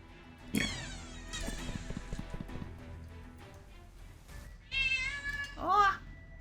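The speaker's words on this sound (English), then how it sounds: "my cat says hello." A pet cat named Zoe meows close by, one early call followed later by two louder drawn-out meows, with quiet scraping and shuffling sounds in between.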